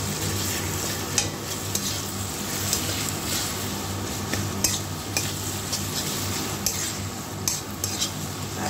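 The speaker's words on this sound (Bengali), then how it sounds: "চলো এবারে এটাকে আমি মিশিয়ে দিই।" Pickle-style taro leaves in oil being stirred in a pan: a continuous close sizzle with repeated scraping strokes and light clinks of a spatula against the metal, steady for several seconds with no talking.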